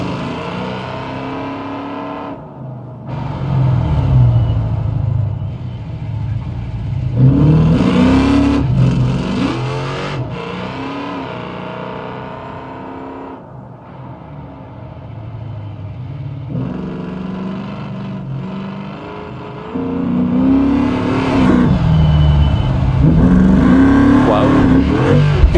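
A bright green bonnetless race car in a BeamNG.drive hill climb, its engine revving loudly and climbing through gears with brief drops between pulls, roaring close throughout as a commentator talks over it.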